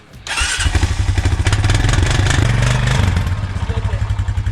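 An engine cranks briefly then catches and runs with a loud, steady, chugging idle, heard close up with no talk over it.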